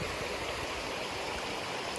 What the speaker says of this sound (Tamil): இதான் தண்ணி வருது.